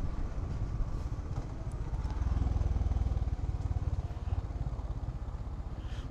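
A Honda H'ness CB350 motorcycle engine-braking in second gear on a steep descending hill road, its steady low rumble swelling briefly in the middle and running close and continuous throughout, with no talking.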